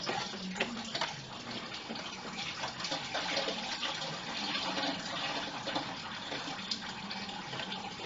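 Antifreeze coolant drains from a 1997 Ford Explorer into a bucket below, a steady gushing, splattering pour of liquid that holds a constant level throughout with no talking.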